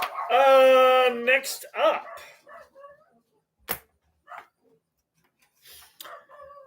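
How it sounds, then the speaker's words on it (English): A dog barks and yips in a quick burst at the start, then a person speaks briefly with a few scattered sounds after. "we got the good old barking dogs in the neighborhood"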